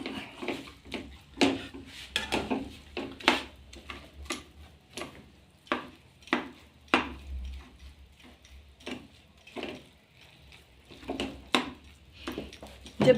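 A spoon scrapes and taps against a pan while mawa is stirred continuously, giving sharp, irregular clicks and knocks at close range over a quiet background.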